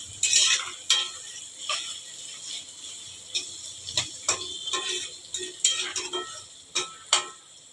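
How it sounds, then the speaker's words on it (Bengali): Onions sizzle steadily in a pan as they fry deep reddish-brown for biryani, with repeated sharp scraping and stirring clicks throughout and no talk. "পেঁয়াজটা পুরো লাল লাল করে ভেজে নেব।"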